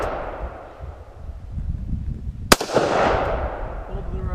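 A .223 rifle fires a single sharp, close crack at an outdoor shooting range, followed by a rolling echo that fades over steady background noise.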